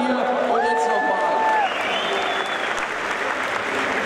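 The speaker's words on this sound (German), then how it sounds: "Großer Applaus auch für unsere Pandaren hier." Audience applause at the Gamescom 2014 Blizzard costume contest, a dense, even clapping with a few whistles early on, while a host's voice carries on over it.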